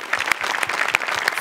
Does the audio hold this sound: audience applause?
yes